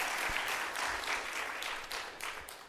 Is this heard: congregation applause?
yes